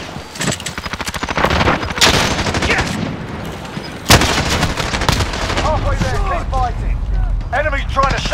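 Dense bursts of automatic gunfire from a Call of Duty Modern Warfare Headquarters match rattle almost continuously, with a sharp loud blast near the middle, while a voice talks over the battle.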